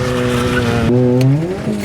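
A Nissan Micra, originally automatic, spins its wheels, producing a loud, sustained tyre squeal with a wavering pitch that lasts nearly two seconds and bends upward partway through, with no voices over it.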